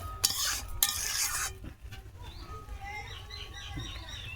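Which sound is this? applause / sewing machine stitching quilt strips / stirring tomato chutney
stirring tomato chutney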